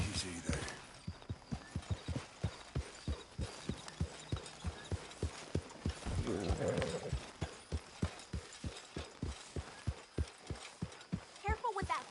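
Horse hooves clip-clopping in the video game Red Dead Redemption 2, a steady even trot of close, crisp beats throughout, with voices talking over the hoofbeats.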